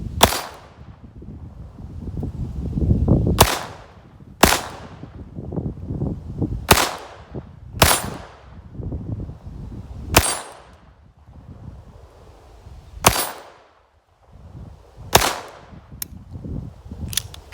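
Ruger LCP II .22LR pistol fired outdoors with a spring kit installed, about eight sharp, loud reports spaced irregularly a second or two apart, with wind and low rumble between shots.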